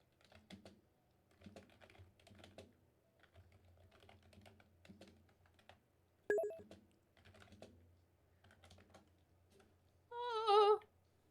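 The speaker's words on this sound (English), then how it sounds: "Typing is hard." Keyboard typing in bursts of quick, light clicks through a streamer's VTuber animation challenge, with Caps Lock switched on, moderately close and steady, broken by a brief electronic beep and a warbling tone near the end.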